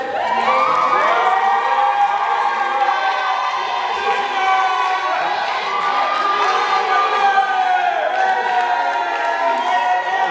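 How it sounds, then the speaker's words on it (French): Wedding guests cheer and shout loudly, a sustained crowd roar with whoops and high voices, steady and close for the whole stretch. "On peut acclamer très fort pour la gloire de notre Dieu"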